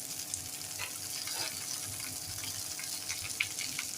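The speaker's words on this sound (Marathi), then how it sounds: "आता दुसऱ्या बाजूला सुद्धा 3-4 मिनिटं छान फ्राय करून घेऊया" Ravas fish pieces coated in gram flour and rice flour frying in a pan, a steady soft sizzle with faint crackles, close and continuous, with no voices.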